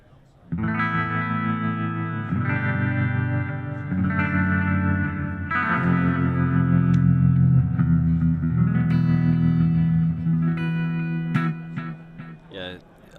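Electric guitar played through a Positive Grid Spark amp with lush reverb, moving between clean and driven tones, sustained chords ringing in wide stereo with a clear reverb tail at the end.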